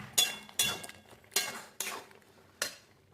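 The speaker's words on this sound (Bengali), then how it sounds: "নাড়াচাড়া করলাম।" A spoon stirring jaggery into tomato chutney in a pan, five distinct scraping clinks spaced irregularly across the moment, close and fairly quiet with no talking.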